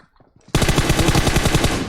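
Rapid automatic gunfire in PUBG Mobile bursts in suddenly after a brief quiet moment and continues as a loud, steady stream of shots.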